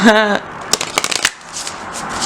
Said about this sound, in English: Alright, I'm gonna shuffle, then shuffle.